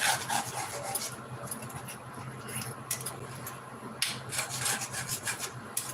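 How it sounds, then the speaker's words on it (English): A utensil scrapes the bottom of a cooking pan, working browned bits into barbecue sauce, with repeated close, gritty rubbing strokes. "So I'm scraping all that up on the bottom, getting it all in my barbecue sauce."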